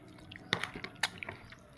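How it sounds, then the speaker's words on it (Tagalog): Young coconut salad being stirred by hand, giving soft wet squishes and drips with a couple of sharper clinks, close and quiet, with no talking. "Naghalo tayo ng buko salad"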